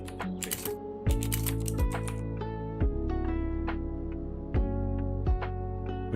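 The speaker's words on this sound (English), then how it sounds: "The sounds are from a virtual keyboard called Mech Vibes." Simulated mechanical keyboard clicks from the Mechvibes virtual keyboard app, a close, crisp run of keystrokes with a few louder, heavier thocks spaced about a second apart.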